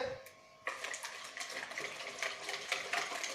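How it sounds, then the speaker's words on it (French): Wet stirring of pancake batter with peanut butter and banana, a soft continuous scraping and sloshing in a bowl that starts abruptly after a quiet moment and carries on steadily, fairly close. "On va déjà mélanger ça."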